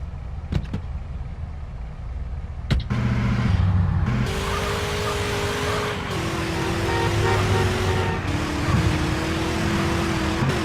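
Modded car driving in the video game GTA San Andreas, a steady engine drone that shifts pitch as the car speeds up, heard up close and without talk after a few sharp clicks at the start.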